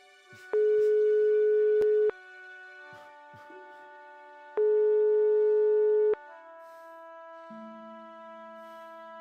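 Phone busy signal inside the video game Broken Sword 5: two long, loud steady electronic tone bursts, separated by a gap, over quiet background game music, with no talking.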